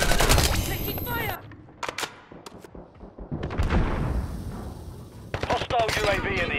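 Gunfire in Call of Duty during a Headquarters match, loud automatic bursts opening the moment, then scattered shots and game effects, and another rattling volley near the end.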